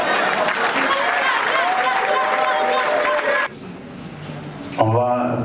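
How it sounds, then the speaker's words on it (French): An audience applauds steadily for about three seconds at an awards ceremony in a hall, then the clapping cuts off abruptly, leaving quiet room tone before a brief loud burst. "Quand c'est l'épouse de quelqu'un, il faut applaudir bien."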